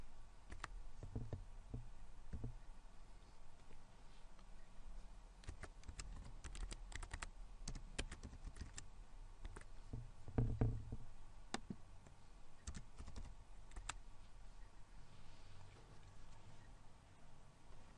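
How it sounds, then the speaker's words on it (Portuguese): Someone types on a computer keyboard while entering data in SAP Business One, with irregular bursts of close, crisp keystrokes and occasional heavier key presses continuing over a quiet, steady background. "Neste caso, digitaremos F001 no campo preferencial."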